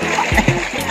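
A child learning to swim in a shallow stream, making a couple of short, close splashes, with a voice briefly audible alongside.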